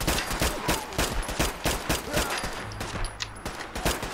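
Rapid gunfire aimed at the player in a modded Fallout 4 game: a fast, continuous stream of loud, close shots in an even rhythm running the whole stretch, with a faint whine underneath partway through.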